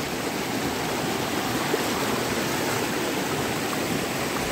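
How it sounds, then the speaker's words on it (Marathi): A river rushing at a knee-deep crossing near Devkund waterfall in Maharashtra, a steady, full, close hiss of flowing water with no voices. "आपल्याला रिव्हर क्रॉसिंग लागलेला आहे या ठिकाणी"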